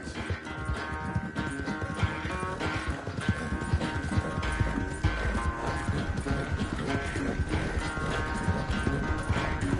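Horse hooves clip-clop in a steady, close rhythm through the whole clip in Red Dead Redemption 2, set over a constant background drone.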